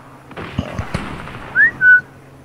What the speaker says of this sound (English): It's whistling, bro.